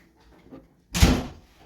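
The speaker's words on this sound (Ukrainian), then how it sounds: "А ти можеш оцю закрити двері?" A household door swings shut with one solid thud after a few faint shuffling sounds, close by in a quiet home during a child's birthday preparations.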